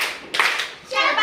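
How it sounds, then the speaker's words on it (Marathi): Mothers at a parents' workshop break into a short burst of hand clapping, a few people applauding together in two quick waves, close and fairly loud. "यांच्यासाठी आपण एकदा शाबासकीची टाळी देऊया।"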